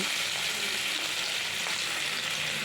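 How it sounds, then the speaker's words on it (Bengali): Turmeric and cumin frying in a pan with browned potatoes, heard as an even, steady hiss of hot oil with a few soft stirring sounds, and no speech. "হলুদ জিরটা আরও ভালো করে ভেজে নেব"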